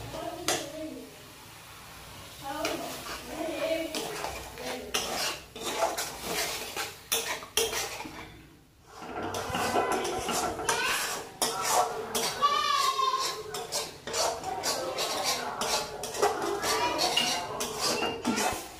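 Cashew paste masala fries in a pan while a utensil scrapes and stirs it, giving repeated clinks and metallic scrapes in an irregular rhythm, close by, with a short pause partway through.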